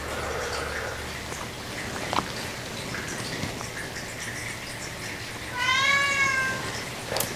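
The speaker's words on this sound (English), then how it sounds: "Excuse my cat, he's hungry." A hungry house cat lets out one clear, drawn-out meow near the end, close and fairly loud, after a stretch of quiet room noise with faint soft taps.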